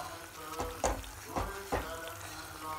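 Cream simmers into ghee in a pan while being stirred, giving a soft steady sizzle punctuated by several scraping stir strokes, close and moderately quiet with no talking.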